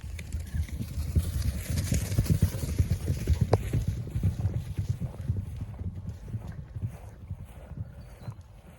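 Hooves thud in a rapid, uneven rhythm as horses run over soft ground, with wind rumbling against the microphone.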